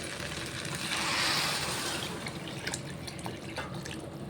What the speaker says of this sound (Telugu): ఇప్పుడు మనం కొబ్బరి పాలు వేసుకుందాం.